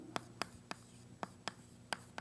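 Hand writing while working a percentage lesson, heard as a series of short, crisp pen or marker strokes tapping at a steady pace, close and quiet against a low hum.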